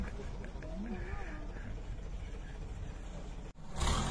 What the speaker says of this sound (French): Trop stylé le bruit qu'il fait le vieux camion